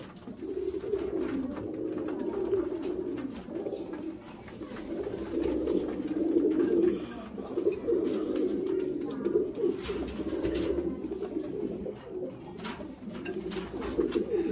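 A pair of old Sialkoti pigeons of the 35 line cooing close by, with repeated low throaty coos rolling in overlapping bursts over a soft background hum.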